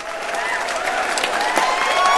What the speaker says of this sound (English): Let's have some applause for Dave.